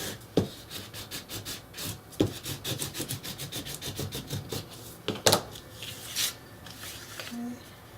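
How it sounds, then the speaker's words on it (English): Paper is burnished on the back side of a book page in a handmade garden-themed book, giving quick repeated dry rubbing strokes close by with a few sharper taps, a voice briefly audible. "Then I'm going to burnish on this back side."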